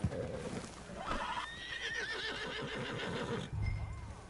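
A horse neighs and whinnies loudly in the Red Dead Redemption 2 video game, its rising call ringing out over rough hoof clip-clop and a thud near the end.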